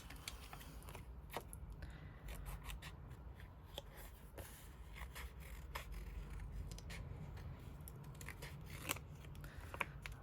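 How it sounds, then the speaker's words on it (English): Quiet, repeated snips of scissors cutting paper, a series of short crisp clicks at an irregular pace with faint rustling between. "Scissors."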